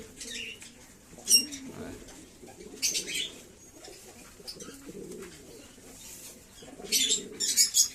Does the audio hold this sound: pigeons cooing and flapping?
yes